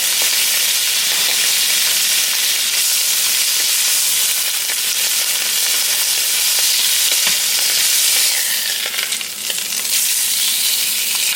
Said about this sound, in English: So I'm going to cook this steak on to build up a nice little brown char on the steak